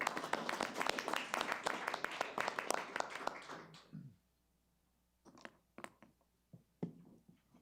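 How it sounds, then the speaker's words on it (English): An audience at a city council meeting in Oldsmar claps in a brisk round of applause that fades out after about four seconds, leaving a few scattered late claps and small clicks in a quiet room. "You can give him a round of applause."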